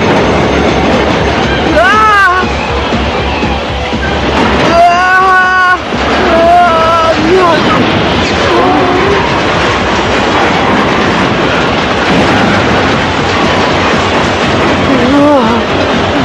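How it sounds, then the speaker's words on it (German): A train rolls along rails loudly and continuously, with rhythmic clatter and occasional metallic wheel squeals, close and dominant. "Der Zug hat sich auf Sichtweite genähert."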